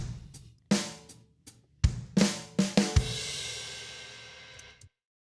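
A Beat Buddy drum pedal plays a programmed drum fill: a few sparse kick and snare hits build into a quick run of strikes and end on a crash cymbal that rings out and then cuts off, with no voices.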